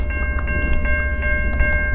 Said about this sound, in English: A second train?